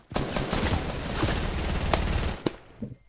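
Sustained automatic gunfire rattles in a Fortnite match, a loud continuous stream of shots that breaks off into a few scattered final cracks.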